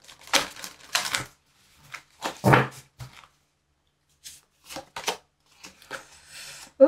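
Cards for a tarot-style reading are shuffled and drawn, giving close, crisp riffling bursts and soft slaps in short irregular clusters separated by silence.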